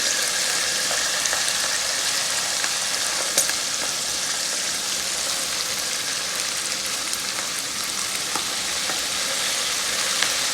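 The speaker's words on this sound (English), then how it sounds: "let's go ahead and let's fry our lobster tails" Lobster tails fry in a shallow pan of oil, a steady dense sizzle and crackle running throughout with occasional sharper pops, close and fairly loud, with no voices.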